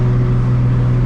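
A 1000+ horsepower Toyota Supra MK4 idles steadily with its muffler fitted, a loud, constant low engine and exhaust drone close by.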